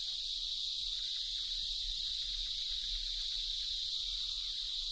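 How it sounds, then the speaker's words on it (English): A dense, continuous high-pitched buzzing drone of cicadas in an Indian forest, steady and loud, with no pauses. "there may be hundreds of cicadas, and many hundreds of thousands throughout the forest, creating a noise so loud"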